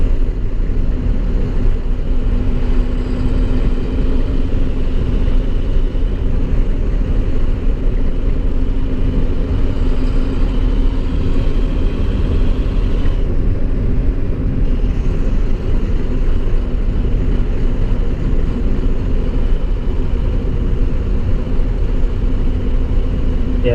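An International Durastar truck with an Allison automatic transmission drives along, the engine droning steadily and evenly from inside the cab for a long stretch, with no talking heard.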